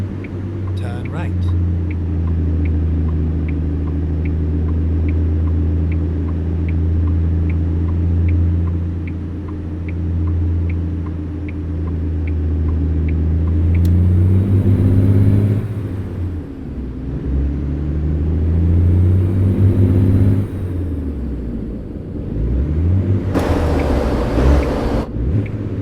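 A truck engine in American Truck Simulator drones low and steady, with the pitch sagging and climbing through gear changes and a few short louder bursts, while someone talks intermittently over it.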